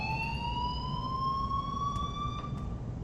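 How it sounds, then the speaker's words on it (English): An alarm rings in the video game Life Is Strange amid an emergency, a steady wailing electronic tone with slowly rising pitch that carries on unbroken over a low rumble, with no talk. "please turn off that alarm since that's your job"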